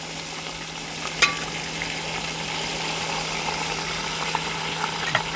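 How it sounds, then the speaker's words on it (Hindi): Ginger and garlic paste hits lightly browned onions frying for a beef korma, producing a continuous even sizzle with a few faint pops over a steady low hum, close and fairly quiet, no speech. "प्याज हमारा हल्का सा ब्राउन हो चुका है। इसमें ये अदरक और लहसुन का पेस्ट डालेंगे।"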